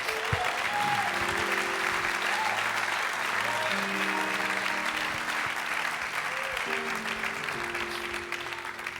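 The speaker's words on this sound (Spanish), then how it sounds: "¿Por qué no le da un aplauso a nuestro Rey?" A church congregation applauds steadily and loudly throughout, a dense wash of clapping with soft instrumental tones underneath.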